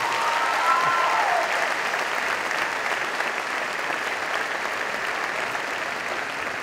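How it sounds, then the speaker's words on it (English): Sustained applause from a crowd at a 2014 graduation ceremony honoring the graduating class, steady and full throughout with a brief whistle near the start. "let's give a big round of applause for our graduating class of 2014"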